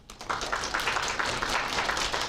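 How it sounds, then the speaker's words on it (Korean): Applause from an audience at a student information session at Suwon Women's University, welcoming a presenter from the field-practice support centre; steady dense clapping starting after a brief pause and continuing throughout, moderately loud and without talk. "박수로 맞아주시기 바랍니다."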